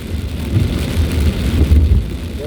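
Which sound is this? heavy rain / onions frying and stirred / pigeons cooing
heavy rain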